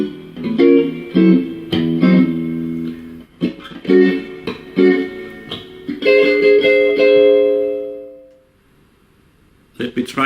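Acoustic guitar plays the last line of a shuffle chord study with 13th and diminished chords, strummed in a lilting shuffle rhythm, close and clear, ending on a held chord that fades into silence before another strum begins.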